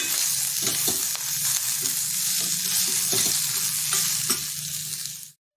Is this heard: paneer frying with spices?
yes